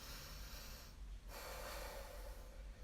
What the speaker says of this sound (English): I take some deep breaths